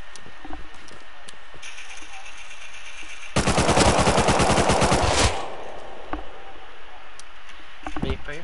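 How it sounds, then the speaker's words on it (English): Automatic gunfire in the Rust video game, a loud burst of rapid shots lasting about two seconds after a quieter stretch with faint clicks and mechanical sounds. "Who the fuck is shooting me?"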